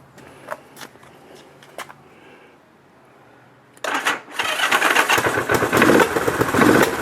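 A cold Honda CB450 motorcycle engine, from a brat tracker build, turns over and catches after a few seconds of near silence with faint clicks. It then runs loud and ragged, close by.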